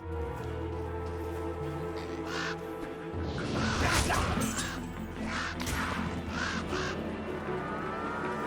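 A flock of crows caws and flaps in a Diablo II Resurrected attack, with dense overlapping caws and crashing impact hits over a steady, loud game soundscape.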